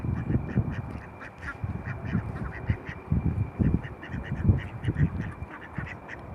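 Domestic ducks and wild ducks quacking repeatedly in a busy, overlapping outdoor chorus, fairly close and steady throughout with no talking.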